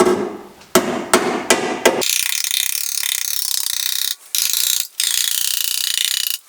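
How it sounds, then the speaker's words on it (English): Four sharp metallic hammer blows strike a Mazda RX-7 car chassis in quick succession, followed by a loud, steady mechanical roar with two brief dropouts. "Time to beat this chassis up a little bit."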